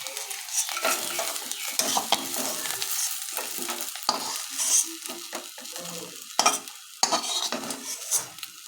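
Dried fish fry in oil in a pan, giving a steady crackling sizzle broken by repeated stirring scrapes and clinks of a utensil against the metal, close and fairly loud, with no talking.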